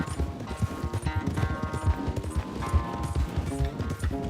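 A horse gallops in a race in the video game Red Dead Redemption 2, with rapid, steady hoofbeats pounding close up under a layer of game sound and music.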